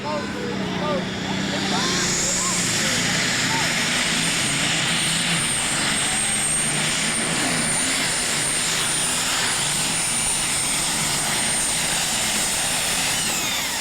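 The Lethal Injection Ford diesel pulling truck, a smoker, makes its first run down a truck and tractor pulling track in Imlay City. Its engine roars loud and steady throughout, a high whine riding on top, while an announcer talks over it.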